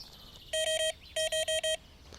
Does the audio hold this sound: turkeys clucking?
no